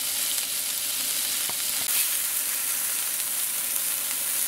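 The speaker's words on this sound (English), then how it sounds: "we're going to want to cook them until they're translucent, but still have some little bite yet to the celery, onion, and carrot" Celery, onion and carrot sauté in a hot pan with a steady, dense sizzle that holds throughout, broken by a couple of light clicks of a utensil against the pan.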